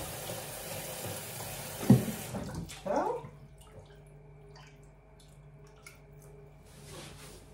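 Tap water briefly gushes and splashes into a basin to soak a knitted shawl, then quickly fades to a quiet room with a low hum.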